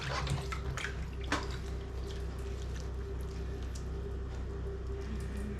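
A kitchen tap runs steadily while vegetables, including celery, are washed for a roasted chicken meal. The water flows close and continuously with small splashes and occasional clinks, and nobody speaks.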